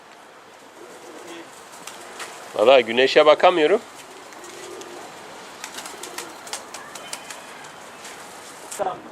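A pigeon coos in a short, close burst of several throaty notes midway through, with people talking before and after.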